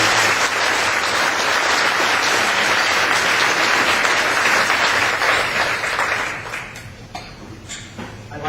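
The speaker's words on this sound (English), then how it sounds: "Please give them your applause." A live audience breaks into loud, dense applause after band members are introduced, a sustained roar of clapping that thins out and fades toward the end.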